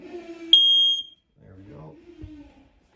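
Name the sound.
smoke detector alarm beeping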